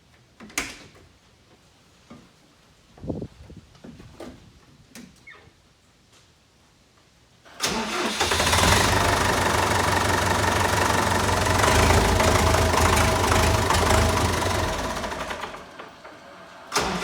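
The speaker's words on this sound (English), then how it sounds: "try to fire it up and let it cycle" After a fluid and filter change, a vehicle engine cranks and fires up, then settles into a loud, steady idle that fades slightly near the end, preceded by a few scattered knocks and clunks in a quiet space.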